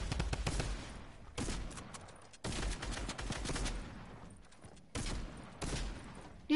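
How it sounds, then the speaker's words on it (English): Video-game gunfire from a purple pistol, loud close bursts of rapid shots in several clusters separated by brief pauses, with no talk. "He's using a purple pistol."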